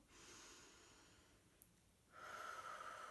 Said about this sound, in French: on va commencer par prendre une grande respiration